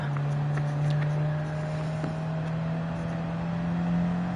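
A 1956 Porsche's engine in the Gran Turismo 7 racing game holds a steady, droning hum at near-constant pitch, fairly loud and unbroken, with no talking.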